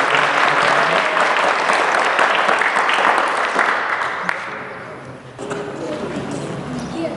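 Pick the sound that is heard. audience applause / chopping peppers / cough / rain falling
audience applause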